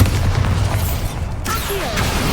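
A Bombarda spell detonates in Hogwarts Legacy, a booming blast that gives way to crackling magical whooshes and sweeping tones during combat.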